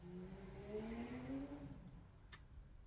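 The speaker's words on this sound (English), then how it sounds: "Hope that car wasn't too noisy going up the street." A car drives up the street outside, its engine rising in pitch as it accelerates and passes, muffled and moderately distant through an indoor room, followed by a brief sharp click near the end.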